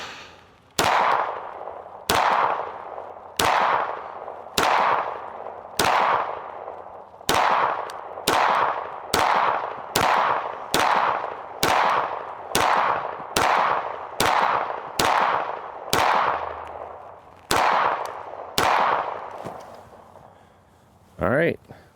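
Sharp pistol shots from a Kimber 2K11 Eclipse ring out outdoors, about eighteen close, loud cracks in quick succession, each followed by a short echoing decay.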